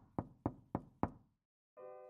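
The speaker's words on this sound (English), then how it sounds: "And then there was a knock at the door." Four firm, evenly spaced knocks on a door, close and distinct, followed by a short silence and then a low tonal hum.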